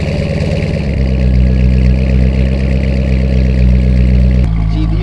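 A Chevrolet C6 Corvette engine idles loud and close with a deep throbbing rumble, rising briefly in a rev before settling back to a steady idle.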